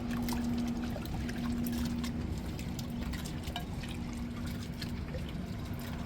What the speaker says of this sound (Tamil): பாசிப்பருப்பு தான் எடுத்துருக்குறேன் இப்போ பாருங்கள் நல்லா கலைஞ்சி எடுத்துக்கிடுவோம்